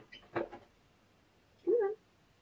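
A house cat meows nearby: one short sound, a pause, then a louder drawn-out meow in an otherwise quiet room.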